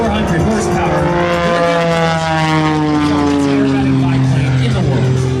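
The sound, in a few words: Oracle Challenger 3 biplane engine at an air show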